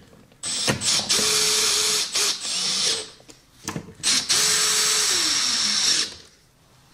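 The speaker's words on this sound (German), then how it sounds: "Dann verwenden wir wieder unsere zwei Schrauben und schrauben das Ganze fest." A power screwdriver drives two screws to fasten a replacement heating pump in a dishwasher that had a no-heat E09 fault. There are two separate whirring bursts, each about one and a half seconds long, with quiet handling between them.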